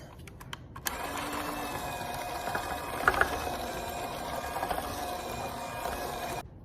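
An electric mixer whirs steadily as it beats flour into wet cookie dough for M&M cookies, starting after a few clicks and running close and even for several seconds before stopping.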